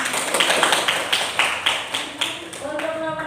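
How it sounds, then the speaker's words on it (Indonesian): A classroom group in Indonesia claps for a presentation group, a close burst of quick, rhythmic hand claps that thins out, with a voice speaking briefly toward the end. "Tepuk tangan untuk kelompok 2."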